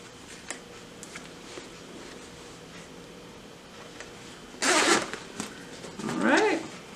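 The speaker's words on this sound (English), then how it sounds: "I'm going to zip up my zipper really quick so I can show you" A zipper on a fabric tote bag with a recessed zipper is pulled closed in two short, loud rasping bursts near the end, after a quiet stretch of faint handling and small clicks.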